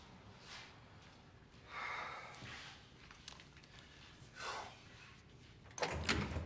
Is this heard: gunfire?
no